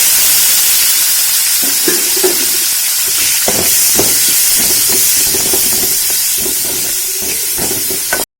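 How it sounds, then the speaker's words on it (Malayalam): Onions sizzle loudly and steadily in hot oil in a pan for chicken pola, with a bright continuous hiss broken by repeated stirring scrapes of a spoon. Nobody speaks. "നന്നായി ഫ്രൈ ചെയ്തെടുക്കുക"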